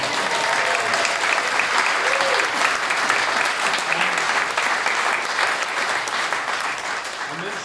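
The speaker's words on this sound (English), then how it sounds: "Round of applause." A village pantomime audience bursts into a long, loud round of applause for Robin Hood, dense continuous clapping that stays strong before easing slightly toward the end.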